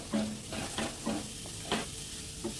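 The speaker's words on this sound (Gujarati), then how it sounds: "એકાદ 2 મિનિટ માટે સોતે કરી લઈએ." Chopped capsicum and cabbage are sautéed in a pan for Rava Manchurian, with a steady low sizzle and several soft, evenly spaced stirring scrapes from a spoon, close up and with no talk.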